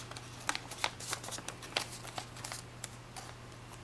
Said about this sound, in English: Now you want to fold it along the center crease away from yourself